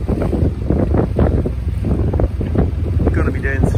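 Small boat pushed by a 10 horsepower outboard motor at about 7.5 knots with the tide, heading into Yarmouth: a constant low engine drone and water rush under heavy wind buffeting on the microphone.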